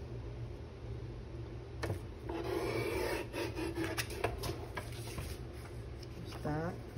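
A small paper trimmer slices paper for an accordion junk journal, giving a short run of close, dry rasping and sliding strokes with a faint quiet hum underneath.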